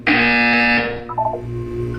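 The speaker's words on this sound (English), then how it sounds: "You will hear a buzzer." A harsh electronic buzzer from a Portal 2 test chamber blares loudly for nearly a second, then cuts off into a few softer tones and low room hum.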